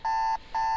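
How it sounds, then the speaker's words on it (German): Alarm clock ringing in the video game The Sims 3, with two loud, clear electronic beeps of equal length separated by a short gap. "Welcher Wecker geht hier jetzt bitte?"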